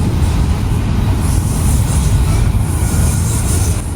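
A slow train rolls past on the track in northeast Ohio, a loud, close, continuous rumble of wheels and cars with a high metallic squeal of wheels riding over it, steady from start to finish.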